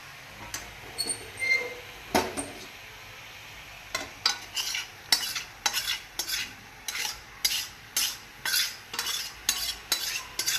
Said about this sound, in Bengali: তো দেখো বাঁধাকপিটা কষানো হচ্ছে